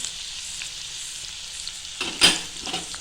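Onion and asafoetida sautéing in a pan give a soft, steady sizzle, then a brief louder burst of frying and stirring near the end.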